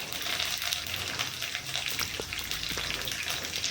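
Peanuts and curry leaves fry in hot oil for upma, giving a steady close sizzle with scattered pops and crackles and no talking.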